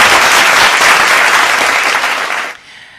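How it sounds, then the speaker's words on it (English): An audience breaks into a loud, dense round of applause at the e4m Prime Time Awards ceremony, sustained for a couple of seconds before cutting off sharply. "warm round of applause."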